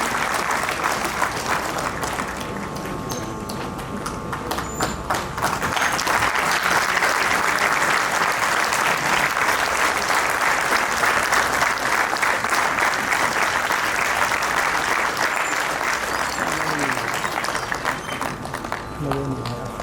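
Long, continuous crowd applause at a government school student ceremony, thick and even throughout, swelling slightly midway, with faint voices underneath.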